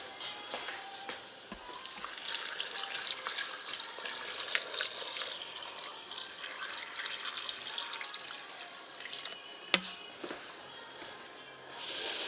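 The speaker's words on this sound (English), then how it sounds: "I'm going to add water and I'm going to fill this up within 1 inch of the max fill line" Running water pours steadily into an Instant Pot over bones and vegetables, a continuous broad splashing rush that carries on throughout, close by, with a few clunks along the way.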